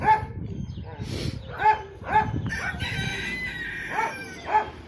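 Rooster crowing several times in a row from silkie chickens, each crow a rising then falling call, close and clear, with a dog barking and a person talking between the calls.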